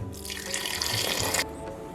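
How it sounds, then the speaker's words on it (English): Hot water from a tap or kettle pours into a large soup pot for a little over a second, a bright splashing gush that stops abruptly, leaving faint drips and kitchen hum. "So now I'm going to add some hot water to this."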